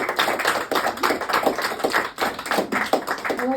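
A live comedy audience claps through a biscuit-tin ukulele act, a dense, steady patter of many hands filling the room with no pause, loud and close.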